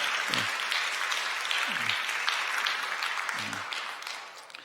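Church congregation applauding in welcome during a Sunday worship service, a steady broad wash of clapping held for several seconds before easing off at the end.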